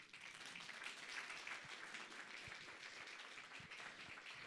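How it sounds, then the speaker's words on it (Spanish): A church congregation applauding during a Father's Day special service, a quiet, distant wash of clapping that holds evenly for several seconds with no voices. "Una vez más vamos a dar por favor fuertes aplausos."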